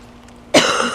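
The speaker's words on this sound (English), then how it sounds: "I'm coughing all you guys ears." A single sudden cough bursts out partway through, loud and close after a near-silent start, trailing into a raspy breathy tail; it comes from a person streaming live outdoors in warm weather shortly after a bong hit.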